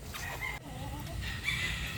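Chickens cluck and murmur nearby in a steady stream of short calls over a low rumbling background.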